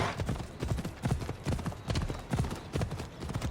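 Horse hooves clip-clop in a steady, fairly close rhythm in Assassin's Creed Odyssey, a continuous run of even hoofbeats carried alone at moderate volume.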